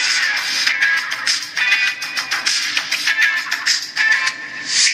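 Music with a bright, thin tone plays from a small FK100 smartwatch speaker, steady and moderately loud, with no voices.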